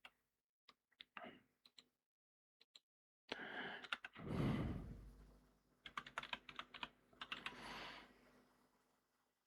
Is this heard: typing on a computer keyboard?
yes